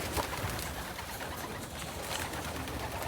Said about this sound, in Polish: Tu Marcin ma młode gołębie